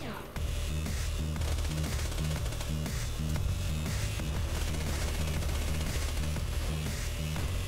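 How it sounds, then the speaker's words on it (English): Hyperion submachine gun firing in a shooter game, a loud, sustained stream of rapid automatic shots with a steady rhythmic thump underneath, continuous for several seconds. "The only submachine gun that's made by Hyperion that I really like."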